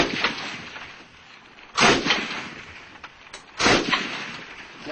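Gunfire exchanged between soldiers and rebels near an abandoned house: two or three heavy, distant booming shots over a rushing, noisy outdoor background.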